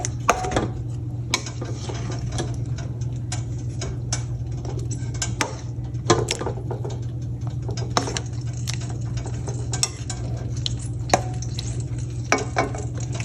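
A spoon scrapes and clicks steadily in a pan as chicken changezi is stirred with kasuri methi sprinkled on top, the irregular taps and soft scraping continuing over a constant low background hum.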